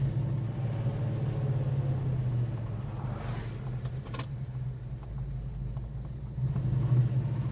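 A black 1969 Dodge Charger R/T muscle car, fully restored, driving on the road with a steady, deep engine rumble heard from inside the cabin, swelling louder near the end, with faint rattling clicks over it.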